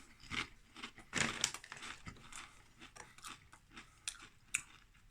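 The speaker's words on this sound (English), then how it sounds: "They're nice and crunchy." Close, crisp crunching of thick-cut Two Farmers Hereford Bullshot crisps being bitten and chewed, with irregular sharp bursts and one loud crunch near the start. No talk.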